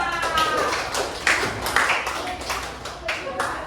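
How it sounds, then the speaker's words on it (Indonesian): Children in a classroom clap their hands in scattered, uneven bursts, with sharp claps cutting through ongoing voices and chatter. "tepuk tangan untuk Kayla."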